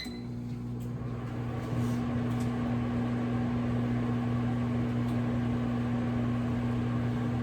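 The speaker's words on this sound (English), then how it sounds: "microwave those for 2 minutes." A microwave oven humming steadily, a constant electric drone that steps up slightly in level and stays even, with no speech.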